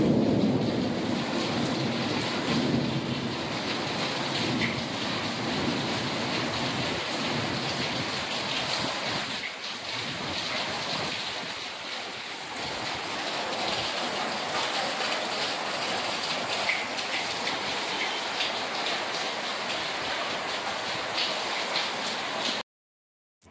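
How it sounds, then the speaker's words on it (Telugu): Heavy evening rain pours in a dense, continuous roar that fills the whole stretch, with faint rumbles beneath and no voices. "తర్వాత చాలా పెద్ద వర్షం పడిందండి."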